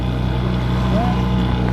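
A 1960 Johnson 5.5 HP outboard engine runs steadily on the water, a loud close droning hum with low harmonic buzz, and a voice speaking briefly over it.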